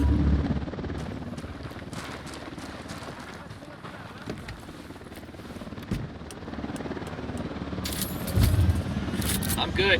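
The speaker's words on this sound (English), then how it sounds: "We got a chopper coming." A helicopter approaches in the Ghost Recon Wildlands video game, its steady rotor roar filling the background under battle noise and scattered voices, swelling louder toward the end.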